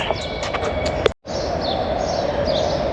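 Birds chirp lightly in short high calls over a steady outdoor wash of noise at a parking area around midday.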